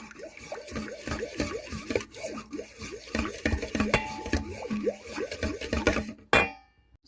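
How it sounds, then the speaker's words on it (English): A spoon stirs melted butter into a yeast dough mixture in a bowl, scraping and clinking against the bowl in a steady rhythm. The sound is close, and a louder knock comes near the end. "Stir that in."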